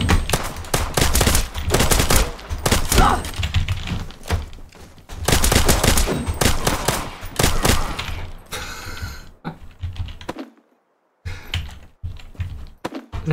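Rapid automatic gunfire in the online survival shooter Dysterra crackles in long, dense bursts, loud and close, broken by short pauses, a stretch of near silence and a few scattered single shots near the end.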